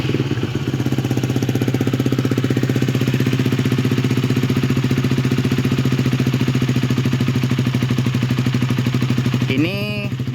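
A warmed-up Honda Sonic motorcycle engine runs on a BB Killer exhaust, idling close and loud with a fast, even pulsing beat that holds steady for about nine seconds before a short rise and cut at the end.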